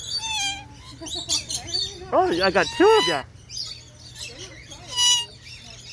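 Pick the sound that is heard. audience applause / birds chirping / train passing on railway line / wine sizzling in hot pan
birds chirping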